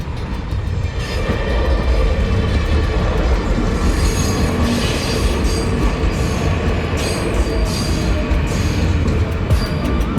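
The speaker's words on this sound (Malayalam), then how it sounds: "ആദ്യമായിട്ട് ചുനീഷ്യയില ട്രെയിൻ വന്നിട്ടുണ്ട് കേട്ടോ" A train in Tunisia rumbles past with rattling wagons and occasional high wheel squeals, loud and continuous from start to finish, no talking.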